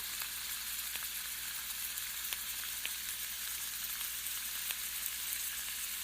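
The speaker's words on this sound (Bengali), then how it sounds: "এখন ডাটাগুলো দিয়ে আবারও আরেকটু ভেজে নেব" Malabar spinach stalks frying in a pan with potato and pumpkin give a steady, close sizzle with faint crackles and occasional stir clicks, with no talking.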